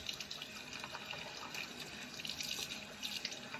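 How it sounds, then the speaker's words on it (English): Warm tap water runs steadily from a faucet into a sink to rinse a shaving brush after a wet shave, a close, continuous splashing with slight fluctuations and no talk. "I'm going to clean up my brush. A little warm, not hot water."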